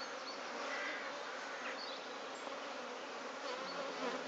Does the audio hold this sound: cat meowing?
no